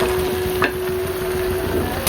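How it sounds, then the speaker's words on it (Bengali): Vegetables frying in a pan for homemade tomato soup, a steady loud sizzle with a brief scraping stir partway through, with no talking. "সবজিগুলো দিয়ে আস্তে আস্তে নাড়াচাড়া করবো।"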